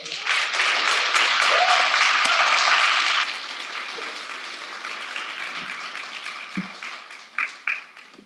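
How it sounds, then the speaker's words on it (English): An audience at a Dr. King commemoration in Carrboro claps in a dense, loud burst of applause that thins after a few seconds into scattered claps and a few isolated louder hand strikes. "Can we give them another round of applause?"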